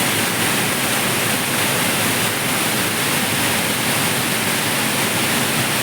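A large waterfall roars as a dense, steady wash of broadband noise, loud and unbroken throughout with no other sounds standing out.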